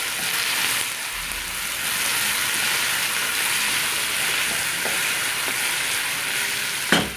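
Onions frying with salt in a pan for Kerala-style mutton curry, giving a steady hissing sizzle throughout with a brief stirring clatter near the end, close and fairly loud, with no speech.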